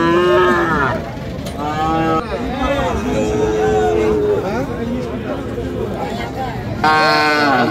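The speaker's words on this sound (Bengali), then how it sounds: "খুব সুন্দর এবং কোয়ালিটি সম্পন্ন শাহিওয়াল সার বাছুর।" A Sahiwal bull calf at a Nilphamari cattle market moos loudly in several drawn-out calls, with other cattle lowing and a busy crowd murmuring underneath.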